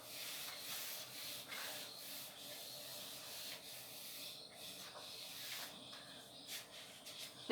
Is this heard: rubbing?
yes